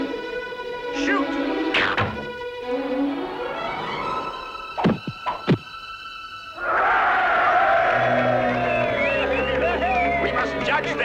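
Arrows strike at an archery contest held before King Richard: voices first, then two sharp close thuds a moment apart, followed by a loud, sustained swell of crowd noise.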